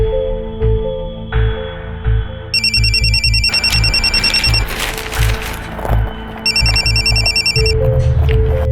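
A telephone rings in loud electronic trills that repeat in bursts over steady background music, close and prominent, with no talking.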